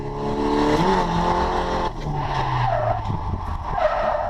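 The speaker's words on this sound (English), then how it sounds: "A little Scando Flick into the S's, trying to maintain speed, bringing the clutch back up" A car on a racing circuit slides through a Scandinavian flick into a set of esses, with tires squealing and skidding over a loud engine as the driver works the clutch to hold speed, sounding close and continuous throughout.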